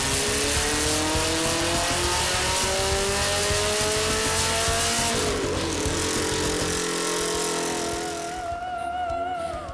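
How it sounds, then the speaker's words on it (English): Volkswagen Beetle tuned to 101 kW at the wheels, its engine revving hard and climbing steadily in pitch on a dyno, loud and close, easing briefly near the end. "Like this Beetle, which may look quite meek and mild, but managed to put out a whopping 101 kilowatts on the wheels."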